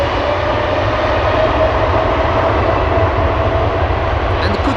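An eight-year-old Air Europa Boeing 787-8 Dreamliner departing Amsterdam Schiphol Airport for Madrid produces a loud, steady jet roar with a deep rumble that holds evenly throughout.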